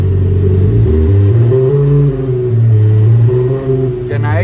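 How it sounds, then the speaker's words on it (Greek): Engine sound of a 2017 BMW X1 played through an aftermarket Panthera Leon sound system, a loud deep rumble with rising and falling revving tones, joined by a brief whistling sweep at the end. "Με το σύστημα της Πανθέρα μπορούμε να αναβαθμίσουμε τον ήχο που κάνει το αυτοκίνητό σας"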